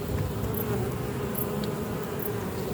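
Honeybees drone steadily around an open hive during a late-season beekeeping inspection, a dense, continuous close buzz filling the scene with no talk.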